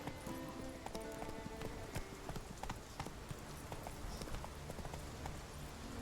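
A horse gallops in The Witcher 3, with quick, rhythmic clip-clop hoofbeats that stay steady and moderately close alongside faint game ambience.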